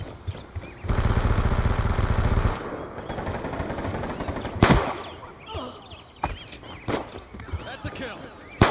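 In a shooter video game, a rapid automatic burst of gunfire rattles for over a second, followed by a few sharp, loud single shots spaced apart amid quieter game sounds.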